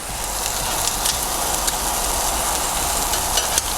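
Turkey bacon and bread frying in butter in a pan, a steady close crackling sizzle with small pops scattered throughout and no voices over it.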